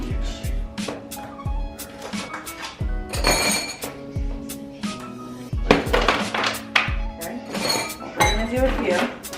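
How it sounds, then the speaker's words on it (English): Ice cubes drop and clink into drinking glasses while Thai iced tea is being made, a series of sharp, bright clinks and knocks in irregular bursts, close and fairly loud, with a little kitchen handling between. "So first we're gonna start off by putting some ice in our glasses."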